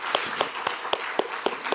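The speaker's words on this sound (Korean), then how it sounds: "이 친구들 박수로 우리 환영했으면 좋겠습니다" A church congregation claps to welcome the children, heard as an even, rhythmic unison beat of about seven sharp claps close together.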